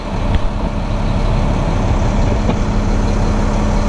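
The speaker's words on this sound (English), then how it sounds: "I'm going to lower the boom." A tower truck's engine runs steadily while its boom is lowered, producing a loud, continuous low drone with no break from start to finish.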